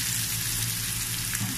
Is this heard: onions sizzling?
yes